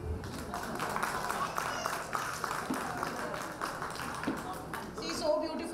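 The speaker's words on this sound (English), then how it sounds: "Please clap for them." Audience at a preschool annual day clapping, a continuous patter of many hands at moderate level, with voices talking over it.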